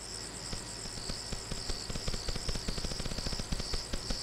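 A bee in the blocky video game Cube World gives off a faint, steady, high insect-like buzz with rapid chirping pulses throughout, heard alone without talk.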